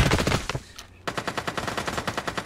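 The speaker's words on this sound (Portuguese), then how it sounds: "Fui olhar os tiros que vocês estavam tomando" Rapid bursts of automatic gunfire in the video game Ring of Elysium, a short volley, a brief pause, then a long steady rattle of evenly spaced shots, loud and close.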